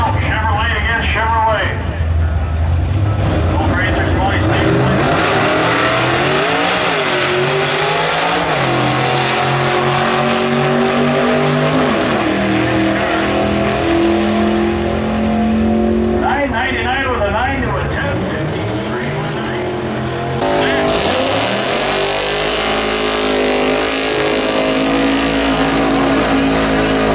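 Two 1955 Chevrolet gasser drag race cars roar hard down the strip side by side, engines revving and climbing through gears loudly, with a public-address announcer talking over the racket.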